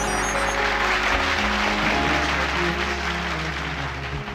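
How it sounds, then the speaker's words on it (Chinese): Steady, dense applause from a studio audience at a televised singing competition, continuous and loud throughout with no voices over it. "来，掌声鼓励。"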